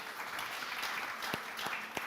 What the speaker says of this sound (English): a big round of applause for this initiative